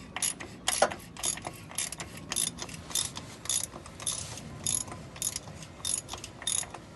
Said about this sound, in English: grab your tool and put that on, and then we can start tightening it down